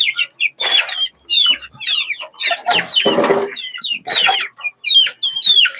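Several chickens cluck and chatter close by while eating fermented coconut pulp feed, in a busy, overlapping stream of short calls, with brief gaps between bursts and occasional wing flutters.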